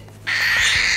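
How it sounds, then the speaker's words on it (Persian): A cockatiel chick being hand-fed lets out a sudden, sustained harsh hissing squawk that starts abruptly and holds loud and close for about a second. "ببینید این صدای عروس هلندی"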